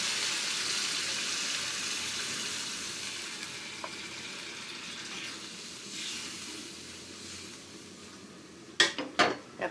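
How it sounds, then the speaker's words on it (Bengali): Fried spice paste of turmeric, chili, coriander and salt in a pan gives a broad steady sizzle that slowly fades, then water goes in with a burst of sharp hissing spatters and clatter near the end. "এবার পানি দিয়ে দেব।"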